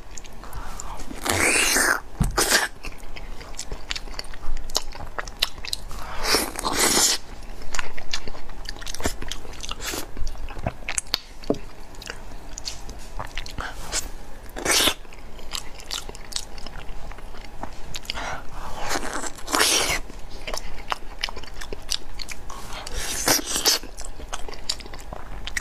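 Food dipped in soy sauce, including beef, is bitten and chewed up close, with wet crunchy bites in bursts every few seconds between quieter chewing.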